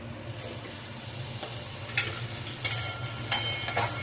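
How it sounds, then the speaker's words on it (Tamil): Broken wheat upma sautéing in a pan with a pinch of asafoetida, a steady low sizzle with soft stirring scrapes and a few brief clinks of a spoon against the pan. "இது ஒரு 3-4 மினிட்ஸ் நல்லா வதங்கட்டும்."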